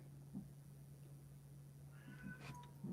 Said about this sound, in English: there goes my cat